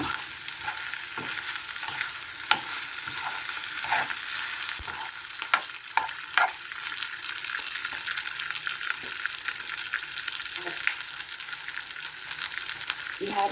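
Creamy pork with mushroom stirred in a pan, a steady soft sizzle broken by sharp scraping clicks of the spoon against the pan over about thirteen seconds, close and moderately quiet.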